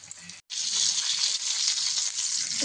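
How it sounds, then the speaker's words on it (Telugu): Fish coated in masala frying in a pan, a loud, steady bright sizzle that runs almost continuously, with one brief break near the start. "మసాలాతోనే ఫిష్ ఫ్రై చేస్తున్నాం."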